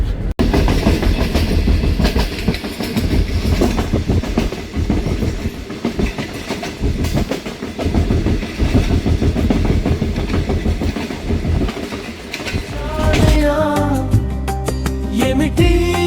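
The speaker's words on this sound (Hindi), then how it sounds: "उसकी one and only train Marvi passenger train है।" Marvi Passenger train running on rails through the Thar Desert toward Khokhropar, a loud steady rumble with rhythmic clickety-clack of wheels over rail joints, close by throughout and shifting near the end.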